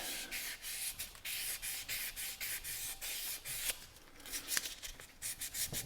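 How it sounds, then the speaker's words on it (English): Light hand sanding on a 1930s Sears Junior lantern: a steady run of soft, close abrasive strokes in quick rhythm, rubbing back and forth with brief pauses between passes. "very lightly sand."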